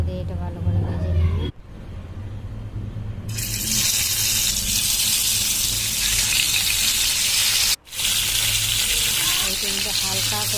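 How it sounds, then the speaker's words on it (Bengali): Paneer pieces fry in a small amount of oil in a pan, a steady close sizzle with a hissing wash. It is briefly cut off twice. A voice talks over it at times. "এইটা অল্প তেলের ওপরে দিয়ে একটা একটা করে দিয়ে এটা ভালো করে ভেজে নিয়ে"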